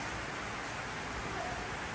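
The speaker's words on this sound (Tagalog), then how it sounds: "Kasi umuulan na." Steady rain falls outdoors, a dense, even hiss of drops at moderate level with no distinct individual impacts and no voices.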